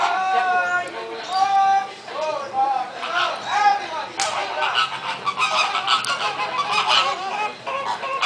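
A group of flamingos marching and calling: loud, overlapping nasal honks and goose-like calls in a continuous dense chorus, nearby and without pause.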